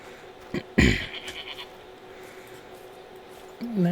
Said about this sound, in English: That's a goat.